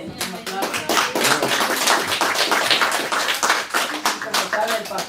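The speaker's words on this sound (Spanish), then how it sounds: "Démosle bien un aplauso" Church congregation at a Spanish-language Baptist service applauding a newcomer, dense sustained clapping throughout with voices mixed in.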